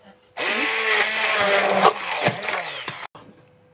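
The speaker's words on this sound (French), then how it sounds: "je vais passer le mixeur pour le transformer en une délicieuse sauce tomate" Kitchen blender whirring loudly and steadily as it purées tomatoes into homemade tomato sauce, its pitch wavering under load for about three seconds before it cuts off, leaving faint kitchen noise.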